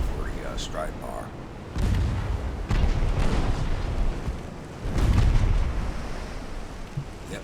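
Naval gunfire from Ultimate Admiral: Dreadnoughts, with battleship shells landing on a warship: several heavy, rumbling booms and blasts rolling one after another, loud and close over low game ambience.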